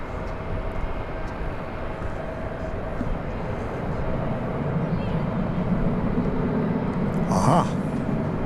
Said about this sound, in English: We're about to see an American Airlines flight coming in from another flight from the West Coast, this one from Seattle, an Airbus A321